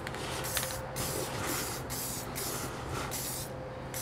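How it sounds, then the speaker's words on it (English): A rattle can sprays a tack coat of paint onto a steel wheelbarrow during restoration, producing loud, close hissing in a series of bursts separated by short pauses, with no talking. "Okay, rattle can tack coat."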